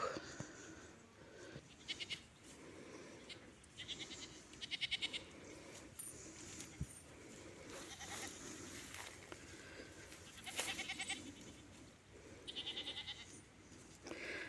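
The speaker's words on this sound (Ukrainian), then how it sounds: "Пасуться коні, кози на стадіоні, якраз у нас в кінці города" Goats grazing on a village stadium field bleat repeatedly in short, wavering calls at moderate distance, spread through the outdoor ambience alongside faint footsteps and rustling.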